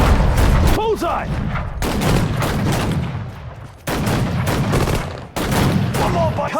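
Sudden Strike 4 desert battle at El Alamein: loud, dense bursts of game gunfire and explosions come in several blocks with short gaps, alongside voiced unit callouts.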